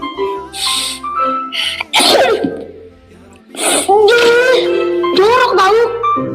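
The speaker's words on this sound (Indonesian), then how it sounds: "Kalau bersin bilang alhamdulillah" Two or three sharp, forceful sneezes burst out in turn, close and loud, with exaggerated voiced wails between them, and someone speaks in the gaps.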